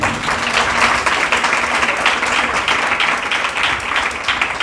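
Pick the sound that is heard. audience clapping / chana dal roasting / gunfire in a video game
audience clapping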